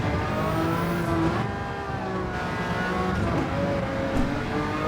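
Jaguar XJR9 race car in Gran Turismo 7 at Spa, its engine note climbing steadily and holding loud and close for the whole stretch, with layered harmonic whine and no talk over it.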